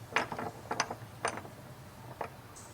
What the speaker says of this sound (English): Now I'm going to connect the body of the hood latch using an 8mm Allen wrench.